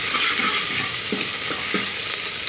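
A garlic mixture stirs and fries in a pan over a medium flame, giving a steady sizzle with soft scraping stir strokes throughout, close and continuous.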